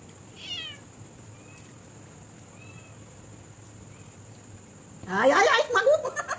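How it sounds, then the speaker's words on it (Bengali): A domestic cat meows in a home while someone sits eating: one short, faint meow early on, then a louder burst of mewing near the end, with a person's voice close by. "শুনতে পাচ্ছ বিড়ালের আওয়াজ?"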